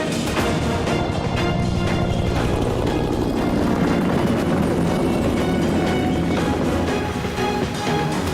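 Helicopter in a Korean War reenactment by the sea, heard as a steady, loud rotor-and-engine drone filling the whole stretch with dense broadband noise and no talk.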